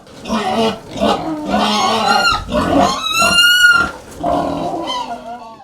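Pigs on a pig-rearing farm grunt, squeal and snort loudly and close by in an almost continuous stream, with one long, high-pitched squeal in the middle.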